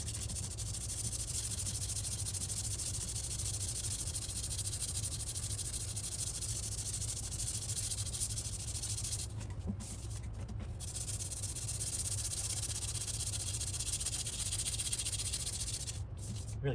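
Sandpaper scrubbing a corroded aluminum motorcycle fork by hand, near the fender, producing a steady continuous hissing rasp that runs unbroken throughout, loud and close, with a couple of brief pauses near the end.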